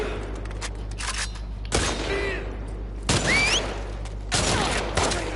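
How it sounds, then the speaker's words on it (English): Enemy gunfire in The Last of Us Part 2, with three sharp, loud bursts of shots cutting through a steady low game-ambience hum, some with whistling ricochet-like tails. "Stop shooting at me, damn it."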